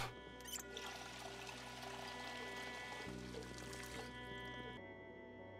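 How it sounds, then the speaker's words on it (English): Water being poured out in Project Zomboid, a soft trickling pour over quiet game hum, faint and ending abruptly. "let's drop this water since we have the water bottle. We'll fill up."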